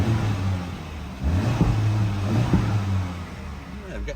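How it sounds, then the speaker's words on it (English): A 2024 Honda Civic Type R FL5 engine idles and revs up, rumbling close by, with a couple of sharp exhaust pops cracking through the drone. "I'm getting a few little pops and bangs there."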